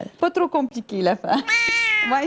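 A cat meows in a drawn-out, tonal cry near the end, right after a person speaks briefly in French; the meow is close and clear.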